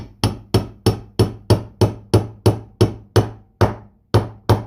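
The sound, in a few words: small hammer tapping seal into place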